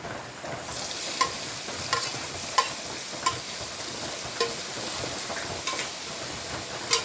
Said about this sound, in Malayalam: ഇനി ഇതിലേക്ക് നമ്മളെടുത്ത് വെച്ച ക്യാരറ്റാണ് ഇട്ട് കൊടുക്കുന്നത്.